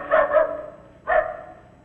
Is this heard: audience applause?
no